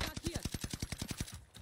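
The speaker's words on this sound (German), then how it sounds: "Drei Schüsse hat er gebraucht." Gunfire in a shooter video game, a rapid automatic burst of about a dozen evenly spaced shots, moderately loud and crisp, with no talk over it.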